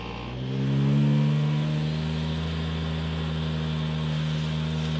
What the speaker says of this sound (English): Let's see if I turn the car on now.